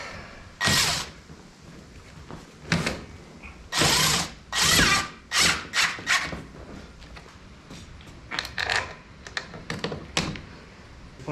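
A power drill runs in a series of short, loud bursts, tightening down a part on a leather car seat being reupholstered, with brief pauses between the whirring spurts.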